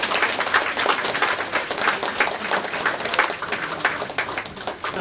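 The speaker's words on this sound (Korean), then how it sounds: "여러분, 다시 한번 힘찬 박수로 격려해 주시기 바랍니다." Steady applause from the crowd at the opening ceremony of the full Airport Railroad line between Seoul Station and Incheon Airport, many hands clapping in an even, sustained rhythm at moderate volume.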